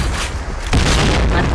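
A grenade explosion in a first-person shooter game: a loud, sustained, rumbling boom that swells partway through and fills the whole clip.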